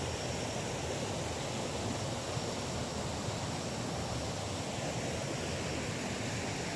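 The Mempapan river at Batu Mampapan flows with a steady, broadband rushing wash that stays even and continuous throughout, with no voices over it.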